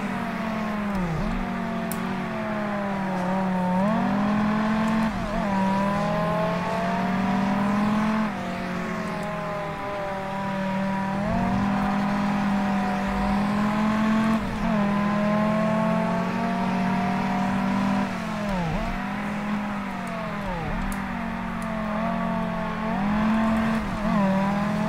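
Dodge Viper SRT-10 Coupe engine in the PC racing game World Racing 2 at Laguna Seca, a loud, continuous V10-style drone rising and falling through gear changes, with occasional tire squeal and no talk.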